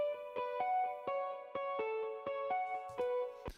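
A Nexus plugin guitar patch for a slap house track picks out a steady run of about a dozen bright, clean plucked notes with ringing sustain, close and alone.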